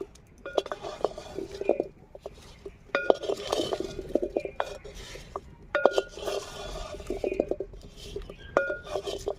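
Chopped onions dry-roasted and stirred in a pan for a Bengali onion bharta, with repeated metallic clinks and scrapes of a spoon against the pan in uneven bursts, close by and clear.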